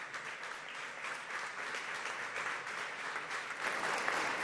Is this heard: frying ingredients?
no